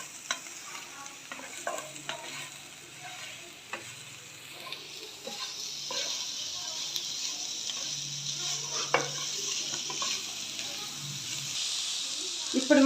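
Cabbage curry with salt being stirred in a frying pan, with a soft continuous sizzle and scattered scraping clicks of the spoon against the pan, close and fairly quiet.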